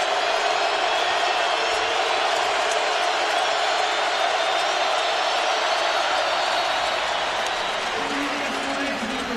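A stadium crowd of 93,000 roars for the LSU Tigers during the 2008 Alabama at LSU college football game, a dense, continuous wall of cheering that runs steadily throughout, with a commentator talking over it.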